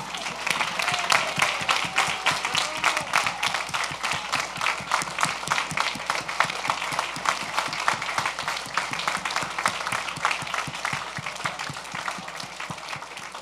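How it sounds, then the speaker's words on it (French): A group applauding the participants at the close of a collective plenary session, with sharp individual claps in a fairly regular rhythm that holds steady and moderately loud for over ten seconds. "On s'invite à tous s'applaudir pour cette participation"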